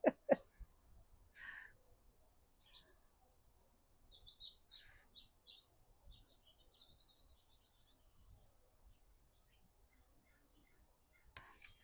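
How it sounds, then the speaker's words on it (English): Hawks and other birds call in a quiet outdoor setting, with scattered brief chirps and high whistles, faint and somewhat distant, separated by near silence. "The hawks and the birds."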